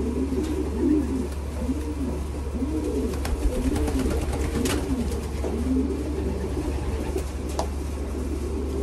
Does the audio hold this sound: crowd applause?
no